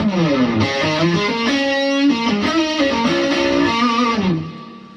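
An electric guitar through an amp's vintage channel boosted by a Maxon SD9 overdrive pedal plays sustained, gritty overdriven notes and chords that ring out loudly, then fades away at the end.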